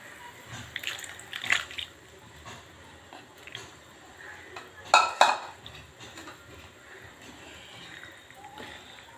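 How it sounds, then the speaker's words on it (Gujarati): Pieces of elephant foot yam dropped into a pot of boiling water, heard as soft splashes and clattering pot and utensil knocks, with one louder burst of clatter midway. "હવે આપણે સુરણ નાખી દેશું અંદર."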